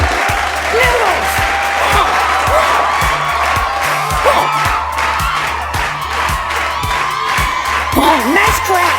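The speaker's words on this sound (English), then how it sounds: "Oh, nice crowd." Crowd cheering and applauding with whoops and shouts, a loud continuous roar over a pulsing low beat of background music, sounding like a studio audience responding to a show host.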